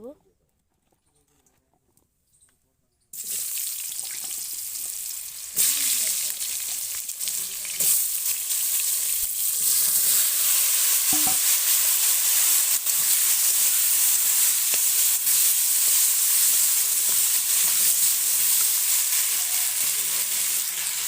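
Cut potatoes drop into hot oil in a pan for a Bengali fish curry, and after a quiet start a sudden loud, steady sizzle takes over and keeps hissing close up, with brief clatters.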